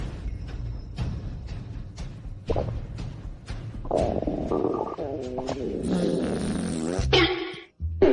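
Rumbling, sputtering fart noises in a hospital emergency-ward scene of a comedy drama, several bursts building over the clip with a long squeaky stretch near the end, with no speech.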